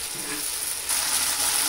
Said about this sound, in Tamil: இப்போ இந்த சில்லியெல்லாம் நல்லா வதங்கிடுச்சு.